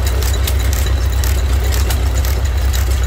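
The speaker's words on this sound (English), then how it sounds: "Stover's good engine." An old Stover stationary engine runs at a car show, giving a close, loud, steady idling rumble with an even pulsing beat and no talk over it.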